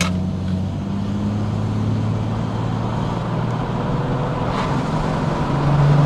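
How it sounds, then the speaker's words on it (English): A Jaguar XJS V12 engine runs while driving, heard through an open window as a steady low drone under road noise, growing slightly louder near the end. "Let me put the window down, see if you can hear a bit of V12 goodness."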